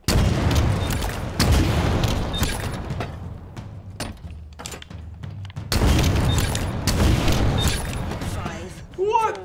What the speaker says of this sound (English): This rocket is crazy.